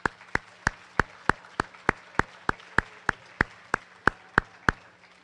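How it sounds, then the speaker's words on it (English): One person claps slowly and evenly at a school student awards ceremony, about sixteen sharp, close claps in a regular rhythm over a faint hum. "One more round of applause."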